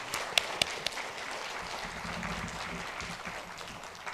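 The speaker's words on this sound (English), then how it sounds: "So please give yourselves all a round of applause." Moderate applause from a conference audience at the close of a plenary session, a steady wash of clapping with a few sharper individual claps near the start.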